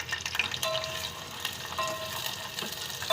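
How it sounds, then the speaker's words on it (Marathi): Onions sauté in oil toward a reddish colour, making a faint, continuous sizzle with occasional soft stirring scrapes, heard up close and without any talk. "आता चांगलं परतून घ्यायचो लालसर करून."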